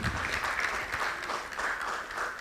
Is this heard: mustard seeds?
no